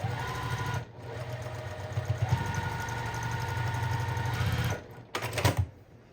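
A sewing machine stitching rows of quilt patchwork, running in a steady, close whirring hum for several seconds with a brief stop and restart, then a short final burst before it falls quiet.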